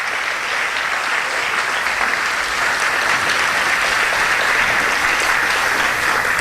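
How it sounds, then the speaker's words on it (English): A pageant audience claps steadily throughout, a dense, even wash of applause from a large crowd in a hall, sustained at full volume with no pauses. "Let's give them another round of applause."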